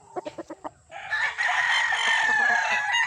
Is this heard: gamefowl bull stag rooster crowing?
yes